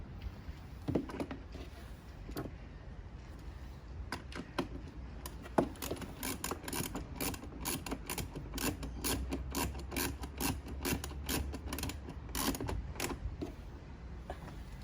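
A socket wrench ratchets while tightening the mount for a top box on a Xmax 300 scooter, giving quiet, irregular bursts of clicking strokes with short pauses between them, close by and fairly soft.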